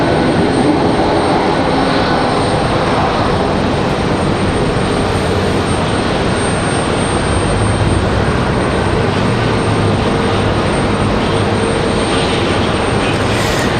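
A Frontier Airlines jet airliner taxis at Raleigh Durham International Airport, giving off a continuous loud engine rumble and whine that holds steady nearby.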